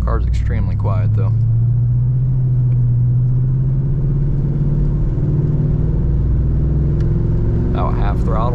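At half throttle, a 1982 Mercury Cougar XR7 gives a low, smooth engine drone that climbs slightly in pitch as it accelerates, with someone speaking briefly at the beginning and again at the end.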